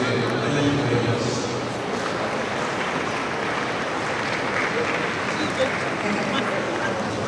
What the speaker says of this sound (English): Please do the whole round of applause for yourself